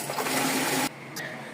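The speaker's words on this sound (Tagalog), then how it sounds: "May nabili ako sa online 12 volts submersible pump 300 watts." A 12-volt, 300-watt submersible pump pushes water from one bucket into another, giving a steady gushing, splashing rush that cuts off abruptly partway through, leaving a quieter trickle.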